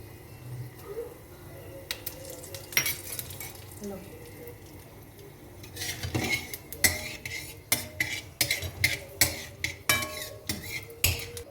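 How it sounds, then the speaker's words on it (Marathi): Curry leaves go into a pan of hot oil with asafoetida for a spiced puffed-rice snack and are stirred with a metal spoon, giving close, irregular clinks and scrapes against the pan that grow busier toward the end. "आता आम्ही टाकणार कढीपत्ता."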